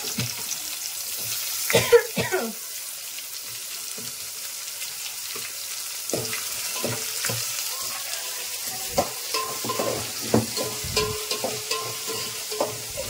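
Onions being added to green chilies already frying in a pan, a soft steady sizzle under clinking stirring strokes and scrapes, with a louder burst of frying near the start.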